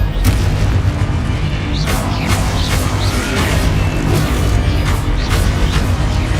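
Explosive Confringo spell blasts in Hogwarts Legacy give repeated booming bursts over a constant loud rumble of combat noise.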